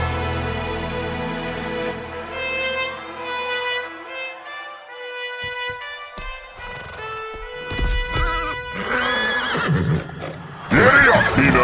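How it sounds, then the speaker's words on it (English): A horse gives a loud, drawn-out whinny that breaks into snorts and rough breathy sounds, heard up close with a brief clatter near the end. "Giddy up, Peanut!"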